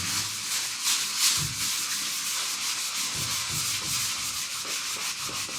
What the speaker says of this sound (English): So you just keep sanding it until the line basically looks about even